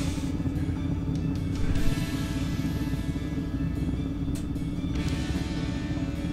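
A Branson 2515H tractor pushing heavy snow in low gear gives a steady, loud diesel rumble close by, with a slight swell partway through and no speech.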